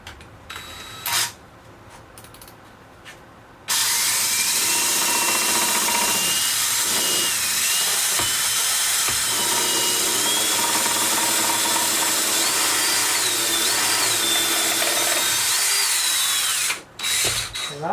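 A DeWalt power tool spinning on an AR upper receiver during a custom rifle build, with a few short clicks and bursts first, then a loud, steady high whine for about thirteen seconds that cuts off near the end.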